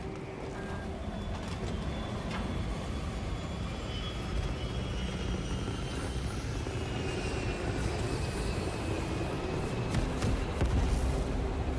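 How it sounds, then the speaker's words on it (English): A Thunderhawk gunship from the game Space Marine 2 arrives with a loud, steady aircraft engine roar and jet whine that builds slightly toward the end, with no speech over it. "Thunderhawk arriving at evac point."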